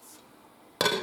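A lid is set onto a crock pot in a kitchen, one bright clinking clatter after a near-silent pause, close and brief with a short ringing tail.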